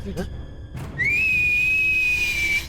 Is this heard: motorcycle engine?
no